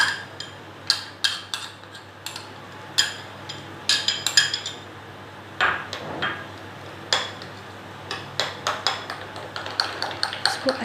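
Spoon clinking and scraping in a bowl as yogurt is stirred together with ground onion, a string of light metallic taps and clinks in an irregular rhythm, close and clear with no voices.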